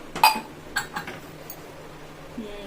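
A cooking pot lid, likely on a pressure cooker of barley porridge, lifts off with a few light metallic clinks close by, then a quiet pause.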